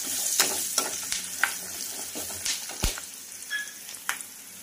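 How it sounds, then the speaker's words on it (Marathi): Curry leaves dropped into hot oil for a Vidarbha-style ukalpendy, crackling and spitting in sharp bursts over a steady hiss, with a few spoon taps. "टाकते मी कढीपत्ता।"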